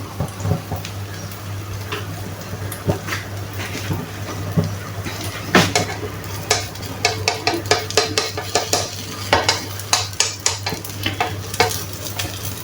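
An escarole tortilla cooking in a hot frying pan, a steady sizzle with a low hum and a run of scraping and tapping utensil strokes against the pan, close and fairly loud.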